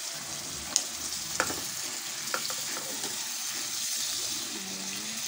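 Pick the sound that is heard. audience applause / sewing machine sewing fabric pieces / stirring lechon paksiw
stirring lechon paksiw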